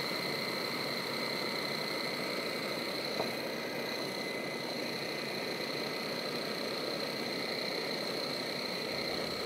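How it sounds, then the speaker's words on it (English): A Vitamix food processor attachment blends avocados with a steady, continuous motor whir and a high whine, running evenly throughout with no talking. "Avocados and 8-second ride are in the Vitamix food processor attachment. Let's start it up."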